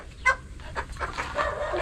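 Dogs yip and whimper in short bursts on a chicken farm, one sharp bark up front followed by scattered fainter yelps.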